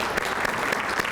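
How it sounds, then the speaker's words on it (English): Steady applause from an audience at a city's annual State of the City address, a dense, even patter of many hands held at a constant level throughout. "can I get a round of applause, please, for Homewood City Schools?"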